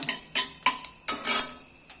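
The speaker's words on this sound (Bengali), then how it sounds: "তেলটার মধ্যে গোটা জিরে একটু দিয়ে দিচ্ছি একটু সর্ষে দিচ্ছি আমি এগুলো একটু নাড়াচাড়া করে ভেজে নিচ্ছি" Cumin and mustard seeds frying in mustard oil as a utensil stirs them in a pan, heard as a series of sharp metallic taps and scrapes in an irregular rhythm, close and fairly loud, with no voices.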